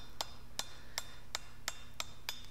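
A hammer strikes hot metal at a light welding heat on a small radius block during a forge weld, eight ringing blows at a steady, slightly quickening rhythm over a low background hum.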